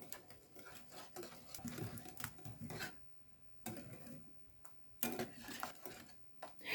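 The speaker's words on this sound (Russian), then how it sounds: "Также перемешиваю венчиком." Milk being stirred with a whisk in a bowl gives a quiet, irregular run of light taps and scrapes, with brief pauses between bursts.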